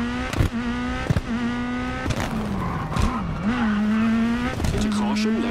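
A 2017 Ford rally car in the video game WRC 10, its engine revving hard with rising and falling pitch through gear shifts and some tire noise on a gravel and tarmac stage, with a co-driver talking over it.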